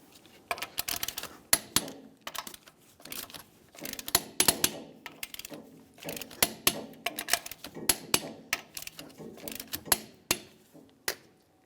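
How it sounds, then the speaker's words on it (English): Lug nuts on a 2002-2005 Ford Explorer wheel are torqued with a wrench, producing a close series of sharp metallic clicks and ratcheting bursts in uneven clusters with short pauses between. "let's torque these in a crisscross manner"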